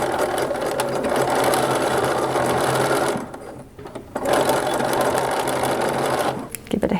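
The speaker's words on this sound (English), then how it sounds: "I'm just going to straight stitch it a whole lot. Back and forth, back and forth." A domestic sewing machine runs a straight stitch back and forth over a vintage-style wrap dress, humming steadily and loudly with a brief pause mid-way before resuming.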